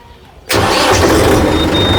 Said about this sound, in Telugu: బండి ఫైనల్గా స్టార్ట్ అయింది